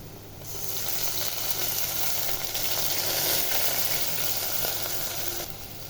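Water splashed into a pan of frying pumpkin leaves, setting off a surge of steamy sizzling that swells and then settles into a steady hiss, close by with no talking.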